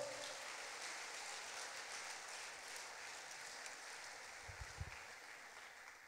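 A church congregation claps in a long, even wash of applause, heard somewhat distant and faint, with a couple of low thumps near the end.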